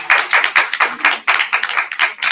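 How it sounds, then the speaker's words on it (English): An audience applauds a genealogy speaker with steady, dense clapping that carries on throughout, loud and near, with no voices over it. "If we can give Ron a big round of applause."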